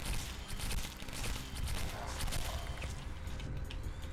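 Rapid bursts of gunfire from the video game Rogue Continuum crackle in dense, fast volleys, fairly faint and continuous throughout.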